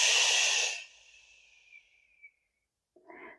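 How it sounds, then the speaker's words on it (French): A strong, airy exhale blown out through the mouth, fading into a thin hiss, followed by a brief softer breath. "le souffle, c'est juste l'air qui va sortir de ma bouche et qui va faire le son"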